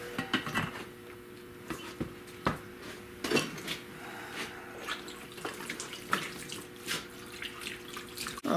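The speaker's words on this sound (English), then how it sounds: "wash these down with water" Water runs and splashes over rusty car trailing arms being washed down on a workbench, with intermittent clanks and knocks of metal parts close by.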